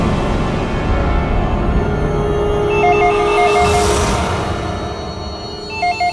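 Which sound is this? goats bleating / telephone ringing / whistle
telephone ringing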